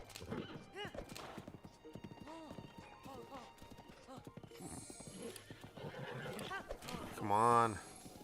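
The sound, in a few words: horse galloping and neighing in video game Breath of the Wild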